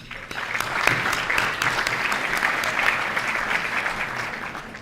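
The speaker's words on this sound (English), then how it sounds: "A round of applause for our platinum sponsors." Audience applause at a league and legislature event, honoring platinum sponsors: a steady round of clapping from a sizable crowd in a hall, moderately loud and unbroken for several seconds.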